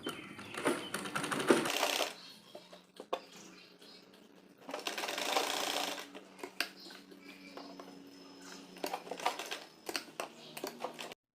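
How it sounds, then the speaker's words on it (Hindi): A sewing machine stitches the folded waistband casing of a Patiala salwar in two rapid rattling bursts, separated by a quieter pause with small handling clicks. "इस तरह से फोल्ड करके यहाँ पर हम सिलाई कर लेंगे नेफा तैयार करने के लिए"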